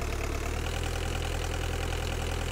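A heavy machine's engine idles steadily in the Giant Machines 2017 video game, a loud, low, continuous rumble with a regular pulsing knock and no talk over it.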